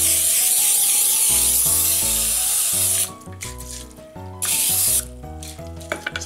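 Cooking spray is sprayed to grease a pan, producing a sustained hiss for a few seconds and then a second short burst, with music playing in the background.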